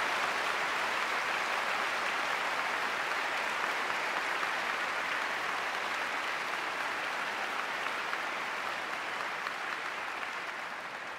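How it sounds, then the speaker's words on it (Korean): Warm, sustained applause from a concert audience at Lotte Concert Hall during an autumn gala concert, a dense, steady wash of many clapping hands filling the hall for about eleven seconds before easing slightly at the end. "Ladies and gentlemen, please give a warm round of applause."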